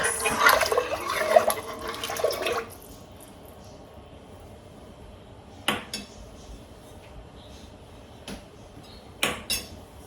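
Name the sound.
spoon stirring hamburger soup in a pot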